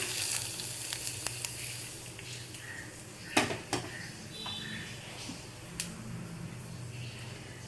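Onion and curry-leaf tempering being stirred into banana flower kootu, with a soft background sizzle under scattered clinks and scrapes of a utensil against the pan, including a few sharper knocks.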